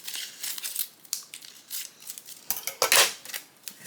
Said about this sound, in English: I think I need to go ahead and trim this down